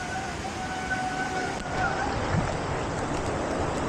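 Small waterfalls on a river along a forest trail in northern Thailand, a steady rushing wash of water close by, continuous and broadband, with a faint tonal hum in the first half.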